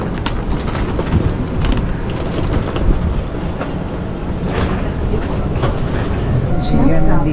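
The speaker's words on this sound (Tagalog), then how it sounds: "Sasakay na naman tayo ng train." Airport shuttle train carrying passengers to the concourse, a steady loud rumble of wheels and car movement with faint clacking throughout, with people talking over the ride.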